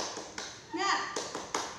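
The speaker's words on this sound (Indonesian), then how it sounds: "Tepuk semangat" Children in a classroom perform a rhythmic spirit clap, sharp hand claps in short patterned bursts with a brief chant-like vocal swell in the middle, close and moderately loud.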